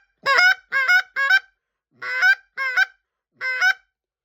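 A Get'em Down goose call blown with cupped hands to mimic a goose, giving six loud, close honks in two groups of three with short gaps between them and no talking.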